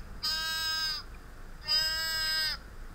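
Two drawn-out, wavering sheep bleats, each about a second long with a short pause between, clear and fairly close against a quiet background.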